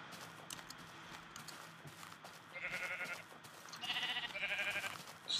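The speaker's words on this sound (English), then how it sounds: "Just killing sheep." Sheep bleating in the video game Minecraft: a few short, nasal bleats arrive in quick succession toward the end, each fairly clear over a quiet, busy game background.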